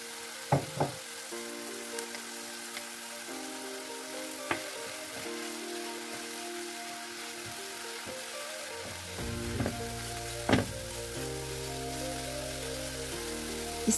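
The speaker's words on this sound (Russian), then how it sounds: "Обжариваю грибы с луком примерно 10 минут, постоянно помешиваю" Mushrooms and onions frying in olive oil with a little butter for pork zrazy, a steady soft sizzle with occasional sharper pops and clicks of stirring, heard close and alone.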